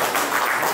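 Loud crowd applause opens a 1992–1993 SSC batch school reunion at Zilla Parishad High School, Kukunoorpally: a dense, continuous patter of many hands clapping together, with no speech.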